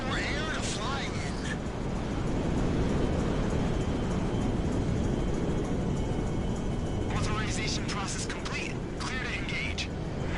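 Heavy rumbling roar of a big plane flying in Grand Theft Auto V, a dense broadband drone held steady throughout, with brief whistling tones and voices talking over it.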